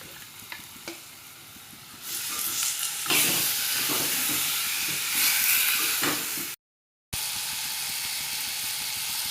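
Chicken pieces dropped into a hot pan of seasoned masala for a Gavran chicken curry burst into a loud, hissing sizzle after a few quiet clinks, with stirring scrapes and crackle continuing steadily, broken by a brief cut.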